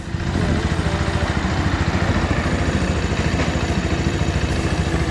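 A Bajaj Pulsar 150 motorcycle engine idling steadily with a fast, even low-pitched pulsing and mechanical clatter, loud and close, with no talk; the bike is said to lack power and its engine visibly shakes.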